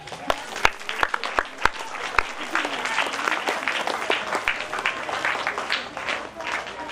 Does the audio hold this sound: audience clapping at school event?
yes